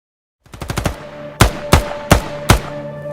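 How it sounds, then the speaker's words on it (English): Gunfire opens with a fast burst of five or six close shots, followed by four louder, evenly spaced single bangs, each ringing out sharply and decaying into a low hum. "Gunshots ringing out."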